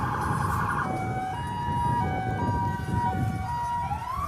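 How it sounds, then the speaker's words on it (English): A Central Oneida County Ambulance siren wails in a St. Patrick's Day parade in Utica, rising and falling in clear tones over the crowd's low rumble, moderately close. "Central Oneida County Ambulance. You hear them coming into view right now"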